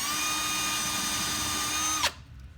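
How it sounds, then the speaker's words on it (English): A power drill whines steadily at high speed for about two seconds, drilling out a screw head on a 2004 Toyota Corolla, then cuts off abruptly as the motor stops. "then just center it, start drilling"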